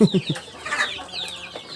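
Free-range black chickens roaming outdoors, giving a few short close clucks at the start, then softer scattered clucking and chirps over a quiet background.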